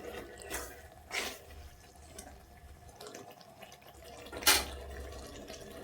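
Water is added to a spicy green chilli chicken gravy in a home kitchen, a few soft splashes and pours standing out over low sizzling background noise, fairly near with no talk.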